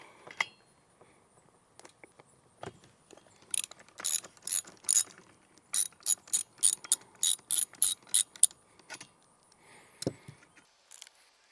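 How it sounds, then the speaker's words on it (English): A spark plug wrench loosens the spark plug on a Stihl FS38, FS45 or FS55 string trimmer, giving a quick series of sharp, fairly quiet ratcheting clicks in bursts against a near-silent background. "to remove the spark plug, you can just use a spark plug wrench like this"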